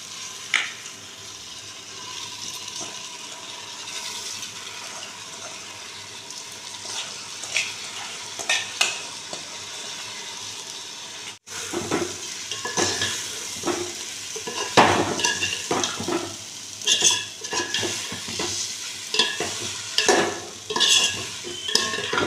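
Soaked, drained Dehradun rice frying in peanut oil and stirred in a pan: a continuous sizzle overlaid with repeated scraping and clattering strokes of a spoon against the pan, growing busier and louder in the second half, no talking.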